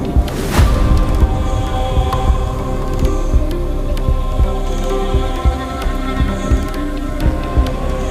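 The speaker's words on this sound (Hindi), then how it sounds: "उसका दिल जोर से धड़कने लगा।" A pounding heartbeat sound effect, with repeated low thumps in a steady rhythm over a humming drone, moderately loud throughout.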